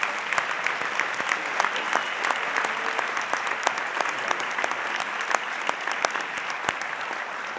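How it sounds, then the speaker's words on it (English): An audience at a community scholarship ceremony gives a sustained round of applause for benefactors, a steady, moderately distant crackle of many hands with sharper individual claps standing out throughout. "How about a huge round of applause, please, for our benefactors?"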